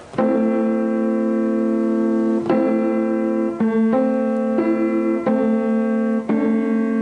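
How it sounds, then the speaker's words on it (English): A sustained two-note electronic chord forming a small minor third, about a quarter tone narrower than a regular minor third, held steadily, restarted several times with short breaks, clear and fairly loud with no voices. "This is the sound of the small minor third."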